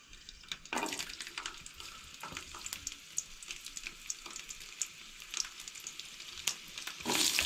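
Garlic frying in about two spoons of hot oil, a quiet steady sizzle with scattered crackles and a few sharper spits, heard close up with no talking.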